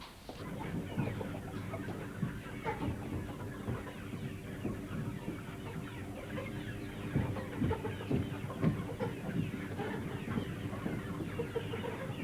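A dense chorus of clucking fills a multi-storey 1960s British chicken house holding thousands of hens, a constant moderately loud murmur of overlapping calls.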